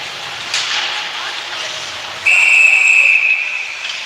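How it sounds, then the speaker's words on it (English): A referee's whistle blows one sustained shrill blast over steady arena noise at a high school ice hockey game, called for too many men on the ice. "A whistle here."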